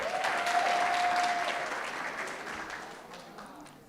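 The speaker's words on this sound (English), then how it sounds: "Another round of applause" Applause from an audience at a university campus student council inauguration ceremony, a dense round of clapping that swells early and then slowly tapers off, with a brief tonal hum near the start.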